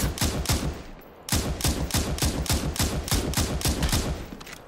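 Rapid gunfire rattles in the battle-royale video game Super People, a dense run of loud close shots, a brief gap, then another sustained burst of evenly spaced rounds.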